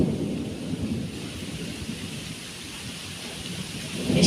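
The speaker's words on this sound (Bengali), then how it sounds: "দেখুন অলরেডি বৃষ্টি পড়া শুরু হয়ে গেছে কি বৃষ্টি বাপ রে বাপ" A heavy thunderstorm pours down outdoors, a continuous loud hiss of rain over a deep rolling thunder rumble that swells at the start and again at the very end, with no voices.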